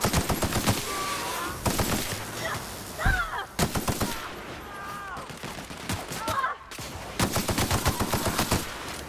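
Acid weapon firing in The Outer Worlds as fast repeated bursts of shots, broken by short pauses, with voices calling out and chirpy squeals mixed in.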